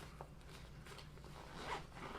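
A zipper on a Z-Packs multi-pack, a small roughly 3-liter pouch, rasps open in a few short quick pulls, close and fairly quiet, with no talking.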